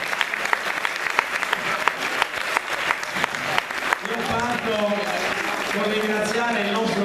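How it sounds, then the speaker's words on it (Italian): A school concert audience claps for a teacher, a crisp burst of dense applause with sharp individual claps, then music and voices begin to rise beneath the fading clapping. "Applausi."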